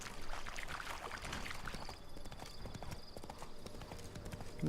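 A horse trotting in the video game The Witcher 3: Blood and Wine, a steady rhythmic clip-clop of hooves, fairly faint against soft ambient background.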